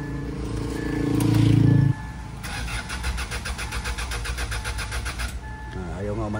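Hyundai Starex GRX diesel engine cranks without catching, a steady rapid churning starter sound after an initial tone, with a voice speaking over it.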